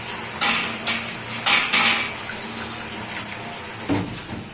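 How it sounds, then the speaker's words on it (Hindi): Kachnar buds are washed in a metal strainer under running water, with steady splashing and a few clinking knocks from the strainer and dishes nearby. "कचनार को अच्छे से वॉश कर लेते हैं।"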